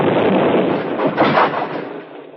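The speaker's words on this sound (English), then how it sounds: "The shock of the blast, which woke 100 echoes among the moonlit hills" A single loud, booming explosion inside a shack in a radio drama, with a rough, sustained roar that swells and slowly fades, close and filling the space.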